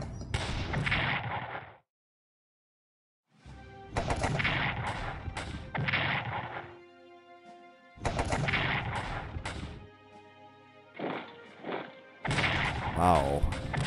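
Artillery barrages in the World War 1 strategy game Strategic Command World War 1: loud clusters of booming, rumbling blasts arrive in several bursts separated by short silent gaps, with faint ringing tones trailing between volleys.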